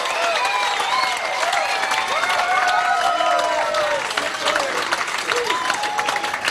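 A large crowd at an election night rally for the 2007 Australian federal election claps and cheers in a sustained, dense roar of applause, with whoops and shouts rising above it throughout.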